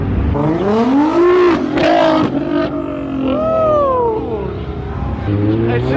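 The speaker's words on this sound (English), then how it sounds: "Cars are flying by right now." Fast cars rev and race past one after another, engines rising and falling in pitch with loud, close passes over several seconds, from a parking area at a high-end event.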